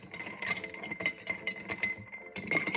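A butter knife clinks against a dish while mixing a Parmesan pasta salad, a series of sharp, close metallic taps at an irregular rhythm, with no talking.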